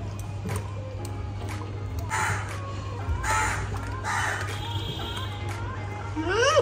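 Crows caw in a few loud harsh calls near a home kitchen in a Bengali village, ringing out over a steady low hum and background household noise.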